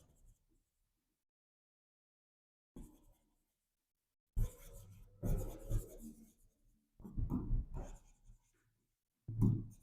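Chalk or marker writing a line on a classroom board during a physics lesson, with short scratchy bursts in several separate spells and quiet gaps between them.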